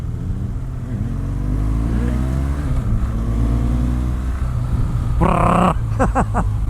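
An '18 BMW R1200 GS base motorcycle engine revs up and down during rev matching, its pitch rising and falling in close, loud sweeps, with sharp higher bursts near the end.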